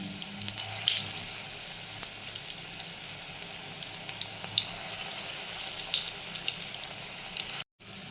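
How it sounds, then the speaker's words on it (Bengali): Semolina pakoras frying in hot oil over medium heat, giving a steady, fairly soft sizzling and bubbling hiss with small crackles throughout, close by and heard alone. "দেখুন পকোড়াগুলো কিন্তু আমি মিডিয়াম আঁচে খুব সুন্দরভাবে ভেজে নিচ্ছি।"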